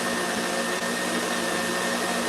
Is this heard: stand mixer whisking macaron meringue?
yes